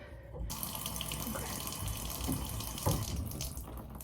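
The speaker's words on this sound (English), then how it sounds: "I'm just going to put a little bit of water in that" Water trickles and splashes steadily into a small votive candle holder while a houseplant is potted indoors, a close, continuous pour with a few brighter splashes near the end.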